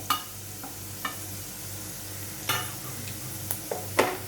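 A spatula scrapes and knocks in a pan as spices are stirred into frying tender jackfruit bhaji in Malvani Konkani style, with dhana-jeera powder, turmeric and Malvani masala. A handful of scattered close scrapes ring out over a low, steady background.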